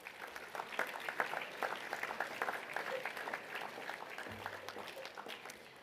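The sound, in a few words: applause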